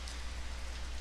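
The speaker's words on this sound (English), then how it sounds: "It's raining really hard in Ema Beach in Hawaii, in Oahu, Hawaii." Heavy rain pouring down at a beach on Oahu, Hawaii, a steady dense hiss of drops on surfaces, close and continuous with no voices.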